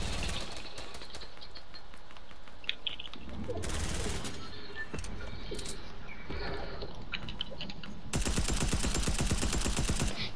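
Gunfire in the video game Fortnite on PS4/PS5, Season 5, as a player shoots at their own building: bursts of rapid shots, with a louder, denser stretch of automatic fire near the end, over a busy mix of game sounds.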